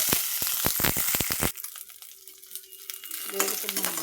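Oil sizzles hard in a pan for peanut tomato chutney, with a few sharp stirring scrapes up front before the frying settles into a quieter, steady hiss.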